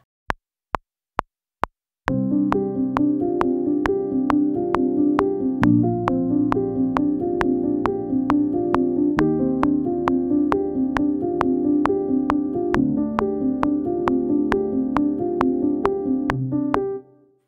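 A few sharp clicks give a count-in, then soft piano chords play continuously in a steady, mellow progression until the music stops near the end.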